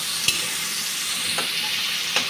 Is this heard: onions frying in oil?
yes